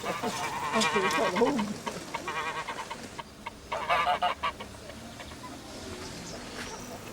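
Geese honk loudly in a noisy cluster near a pedestrian crossing in Skanör-Falsterbo, bursts of calls rising and falling, with a quieter stretch of outdoor ambience between.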